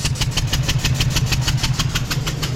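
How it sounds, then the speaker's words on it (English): An old Ford engine that has blown out a spark plug runs loudly up close, chuffing in a rapid, uneven rhythmic puff with a sharp ticking beat over a rough low drone, with no talking. "I think this old Ford spit a spark plug."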